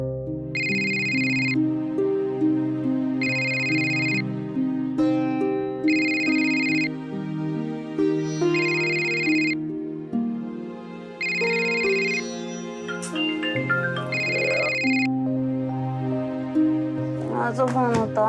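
A phone ringtone plays as a repeating melodic pattern of bright rings in regular bursts over a steady musical backing, loud and continuous for the whole stretch.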